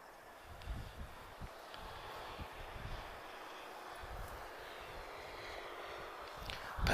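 An Airbus A320-214 airliner departs Lisbon Airport, its engine roar a steady, fairly distant rumble with wind buffeting, holding level throughout.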